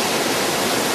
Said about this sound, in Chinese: 这个瀑布叫做江巴丹干洞